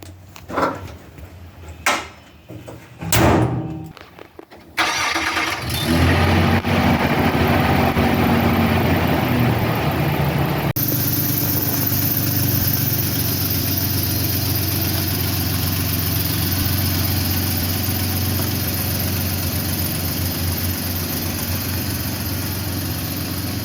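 A 2003 Nissan Xterra setting out on a road trip gives a few sharp clicks and knocks, then its engine starts and holds a loud, steady drone close by for the rest of the stretch.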